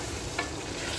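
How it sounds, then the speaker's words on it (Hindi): Boiled chickpeas frying and being stirred in oil in a pan, a steady close sizzle with a brief scrape of the spoon partway through, no voices. "इसको साइड पर डाल देते हैं और चनों को भूनते हैं।"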